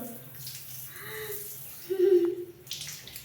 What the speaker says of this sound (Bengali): নিজে স্নান করছে আর জলটা খেয়ে নিচ্ছ